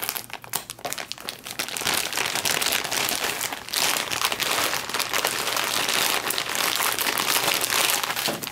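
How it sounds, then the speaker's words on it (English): Tape is cut and pulled on the plastic packaging of a New Zealand operational ration pack, giving a close, continuous crinkling and rustling that grows denser and louder after a few scattered crackles. "I'm just going to cut the tape right here."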